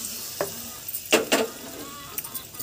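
Hot spiced oil tempering poured into homemade guava pickle, giving a few sharp bursts of sizzle and stirring clatter over a soft, low background.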